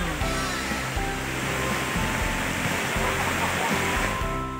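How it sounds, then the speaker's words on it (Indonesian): A steady, dense roar of falling water from the Bayangsani waterfall in Koto Baru, Pesisir Selatan, West Sumatra, loud and continuous throughout. "Seperti inilah pesona air terjun Bayangsani."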